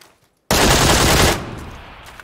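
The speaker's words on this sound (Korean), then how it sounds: "이렇게 총소리를 내면 뒤에 있는 적이 찾아와서 죽입니다" A loud, dense burst of rapid automatic machine-gun fire in a video game, lasting under a second, starting abruptly after silence and trailing off into a lingering echo.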